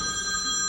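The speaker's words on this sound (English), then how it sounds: "Uh-oh, that's my husband's cell phone." A cell phone rings in a home, a steady electronic ringtone holding through the moment with a brief louder burst at the end, no voices over it.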